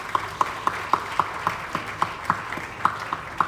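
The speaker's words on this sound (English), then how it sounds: "Please, a resounding round of applause." Audience applause at a ceremony honouring African business leaders, heard as a steady, moderately distant patter of clapping with regular individual claps standing out, no speech over it.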